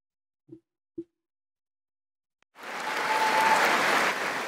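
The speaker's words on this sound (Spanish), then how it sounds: "vamos a ver el aplauso de la vergüenza" Sustained applause in the US Congress for Israeli prime minister Benjamin Netanyahu, a dense steady wash of many hands clapping that begins abruptly after a couple of soft knocks and continues loud and even.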